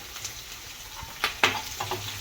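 Sesame seeds and curry leaves hit hot oil in a pan for tempering, a steady sizzle with sharp crackling bursts and pops near the middle, close and fairly loud, no voices.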